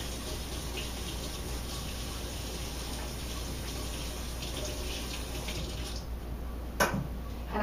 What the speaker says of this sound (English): let me rinse my hands very quickly